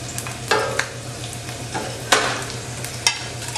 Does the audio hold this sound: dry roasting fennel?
yes